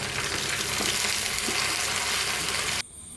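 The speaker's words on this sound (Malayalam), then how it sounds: "ഇനി ഇതിനെ നമുക്ക് നന്നായി ഒന്ന് മൂപ്പിച്ചെടുക്കാം. കുറച്ച് കറുവേപ്പിലയും കൂടി ഇട്ട് കൊടുത്തിട്ടുണ്ട്." Onions and curry leaves fry in hot oil in a pan with a steady crackling sizzle. It is moderately loud and then cuts off abruptly near the end, leaving near quiet.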